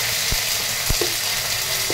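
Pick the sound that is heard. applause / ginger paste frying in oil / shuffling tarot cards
ginger paste frying in oil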